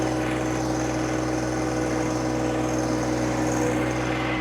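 A 2020 John Deere 1025R sub compact tractor, fitted with a loader, backhoe and 60-inch belly mower, runs at a steady idle with an even, continuous engine drone close by and no talk.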